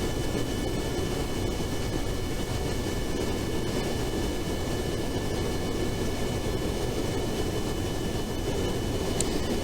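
Steady, loud game-engine drone of an aircraft coming in to land in Kerbal Space Program, a continuous broadband roar with a faint high whine, unchanging across the whole stretch and with no talk.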